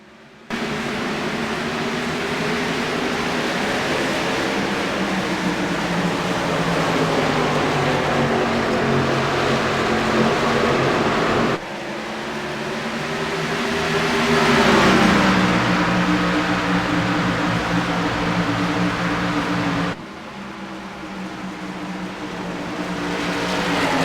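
Several race car engines in a racing video game drone and whine steadily, their pitch rising and falling as cars pass, loud and continuous with no talking.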